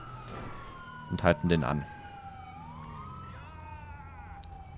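Police car siren from GTA V, a steady wailing tone sweeping slowly down then back up through the clip, with someone speaking briefly over it partway through.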